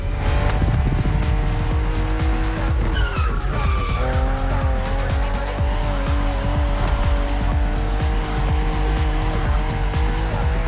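A BMW CSL racing in the video game The Crew Motorfest, a loud engine note that rises and shifts through gears while tires squeal and skid continuously, with no voices.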